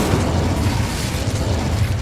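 An Incendio fire spell in Hogwarts Legacy erupts as a steady, low, rumbling whoosh of flame, loud and close for two seconds with no talk.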